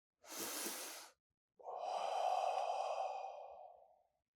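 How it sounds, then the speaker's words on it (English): A slow breathing exercise: one short inhale through the nose, then a pause, then a long, steady exhale through the mouth that trails off, close and alone. "So you're inhaling through the nostrils, which releases nitric oxide that dilates the blood vessels, and a long exhale through the mouth."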